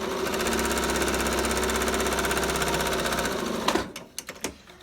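A sewing machine stitches rapidly up and down along the edge of a homemade ribbon face mask, a steady close whirring rattle for about three seconds, then a few clicks and knocks as it stops.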